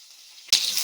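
Green and dried chillies with curry leaves dropped into hot oil, bursting into a sudden loud, close sizzle after a quiet moment and hissing on steadily.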